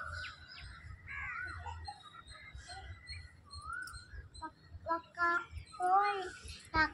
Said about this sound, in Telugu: సూర్యోదయం టైంలో కోయిల గానం వింటుంటే మనసు చాలా ప్రశాంతంగా ఉంది